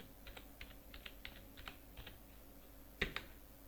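Someone types digits on a computer keyboard with a run of about a dozen light, evenly spaced keystrokes and a louder double tap near the end, quiet and close with no voices.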